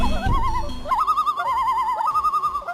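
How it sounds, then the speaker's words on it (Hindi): A loon gives an eerie, wavering tremolo call, rising and warbling in repeated pulses over a couple of seconds, clear and fairly close with nothing else over it. "लून बर्ड, इसकी आवाज रात को बहुत डरावनी लगती है।"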